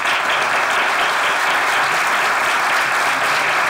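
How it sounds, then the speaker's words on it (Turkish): A studio audience at a comedy show claps in dense, steady applause. It stays loud and even throughout, with no voices heard over it. "bir alkış"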